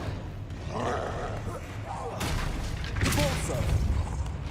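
Confringo fire spell blast in the Hogwarts Legacy video game, a loud booming burst with crackling impacts over steady game ambience, followed by a second heavy thump.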